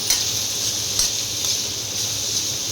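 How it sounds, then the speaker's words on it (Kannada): Vegetables for street-style veg noodles fry in a pan with a steady close sizzle and hiss, broken by a few soft stirring clicks at regular intervals, no talking. "ಅದೊಂದು ಸ್ವಲ್ಪ ಫ್ರೈ ಆಗಲಿ."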